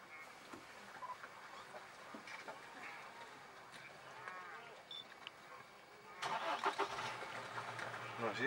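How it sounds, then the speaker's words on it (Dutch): Car engine starting near zebras at a waterhole in Kruger Park, a faint distant background with scattered soft sounds, then a louder burst of engine noise near the end, with people talking quietly. "dat is schrikken gelijk van uit de startende auto"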